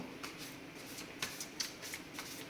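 Druid tarot cards being shuffled by hand, a soft, steady riffling with a few sharper snaps, close and quiet against faint background hiss.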